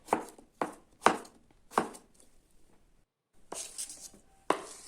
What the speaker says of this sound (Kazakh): Қиярымызды тураймыз енді.